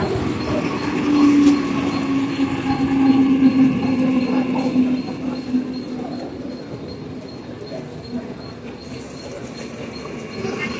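A crowded fast train arrives at a station, rumbling steadily close by, with a thin metallic squeal of wheels early on and a continuous rolling drone that gradually eases.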